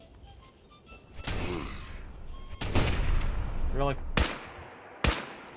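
Gunfire in the Fallout 4 video game, several sharp separate shots and a burst spread across a few seconds, loud and close, with a voice speaking briefly between them.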